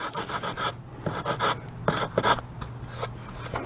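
Sanding on damaged particle board being repaired, heard as a series of close, raspy rubbing strokes in short repeated bursts with brief pauses between them.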